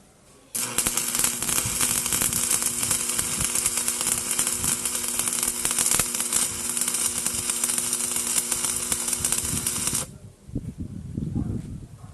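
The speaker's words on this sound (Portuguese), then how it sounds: "Eu vou soldar ela agora dá um cordãozinho de solda aqui" A 150A electric arc welding machine running a short weld bead, a loud steady crackling hiss that starts abruptly and runs for about nine seconds before cutting off, followed by faint handling noise.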